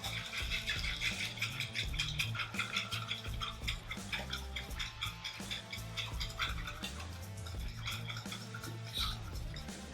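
A whisk beats cornbread ingredients in a bowl with rapid, continuous ticking and rattling strokes against the sides, steady and close though fairly quiet, under a low background hum.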